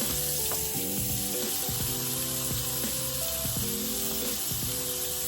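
Burgers fry on a griddle with a loud, steady sizzle and crackle, joined by occasional scraping and clinking of a spatula. No one talks.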